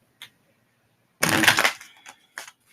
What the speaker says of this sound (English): That was a false shuffle.